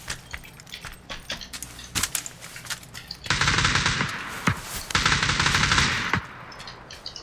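Bursts of automatic gunfire in the battle royale game PUBG, with scattered single shots and two long, loud sustained volleys of rapid fire close by.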